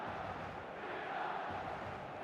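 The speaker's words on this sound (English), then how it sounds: "The stadium is full of noise and energy." Stadium crowd noise from the video game eFootball 2026 forms a steady, dense roar of many voices. It stays even and fairly faint throughout.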